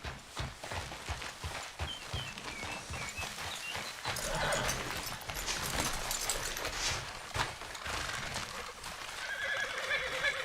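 A horse in Red Dead Redemption 2 neighs and whinnies over steady clip-clop hooves, with a busy game background of movement and ambient noise throughout.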